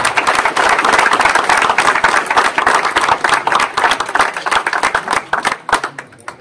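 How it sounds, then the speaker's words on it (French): Audience applause at a community lunch hosted by the municipal social action centre in Ruffiac, France: dense, steady clapping from a roomful of people that stays loud and close throughout, then thins and tapers off near the end. "Je crois qu'ils méritent toutes et tous également les applaudissements."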